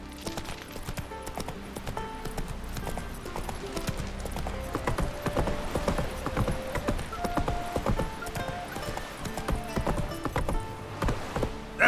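Roach the horse gallops in The Witcher 3, with quick rhythmic clip-clop hoofbeats rolling steadily and close by, plus occasional faint snorts over a soft game soundscape.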